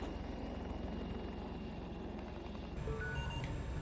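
A stealth helicopter's rotor in Battlefield 2042 chopping steadily at close range, a constant droning thump with faint electronic beeps and tones near the end.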